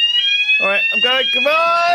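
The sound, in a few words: fire alarm going off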